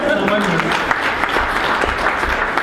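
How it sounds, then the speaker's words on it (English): An audience applauding at a blockchain and philanthropy event at RMIT University, a dense steady patter of clapping with some voices murmuring underneath. "Deserves a round of applause."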